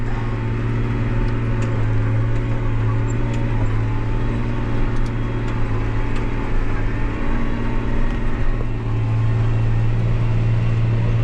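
A new tractor drives in gear during corn harvest, producing a steady, loud low engine drone and hum inside the cab that holds unbroken throughout, with faint ticks above it.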